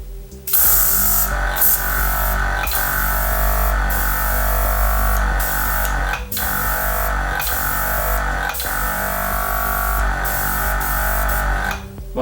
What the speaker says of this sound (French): vous entendez le bruit, là ça y est, il s'est mis en compression